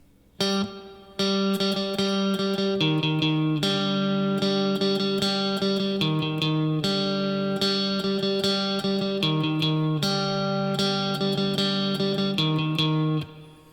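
A guitar plays the opening phrase of a march alone, repeating, steady and clear, each note struck distinctly with a bright, slightly processed tone.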